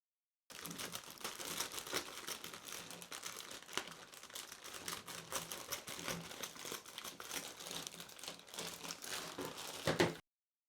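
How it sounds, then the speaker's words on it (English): Bubble wrap and plastic bags from a boxed One Piece figure set crinkle and crackle continuously for about ten seconds, close up and dense, with no voices. "A lot of bubble wrap and plastic bags,"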